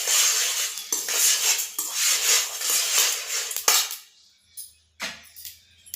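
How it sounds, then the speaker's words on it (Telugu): Garlic cloves being roasted in a metal pan while making moringa leaf powder, with steady scraping and clinking of a spatula against the pan for several seconds, then a few sparse clinks after the stirring stops. "అలాగే కొన్ని ఎల్లిపాయలు ఇందులోనే వేసి వేయించుకోవాలి ఫ్రెండ్స్."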